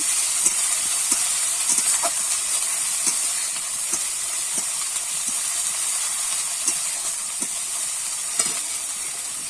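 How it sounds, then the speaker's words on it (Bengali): Steady, bright sizzling of ginger garlic paste frying in a hot pan, with occasional soft clicks of stirring, close and continuous with no talking. "একটু আমি নেড়ে চেড়ে কিন্তু আদা রসুনটা ভেজে নেব"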